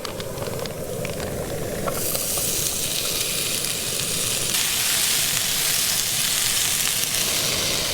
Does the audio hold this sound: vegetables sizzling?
yes